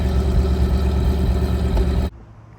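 A 1971 Dodge Challenger convertible with a 340 V8 idles loud and steady for about two seconds through its quad square exhaust tips, then the sound cuts off abruptly.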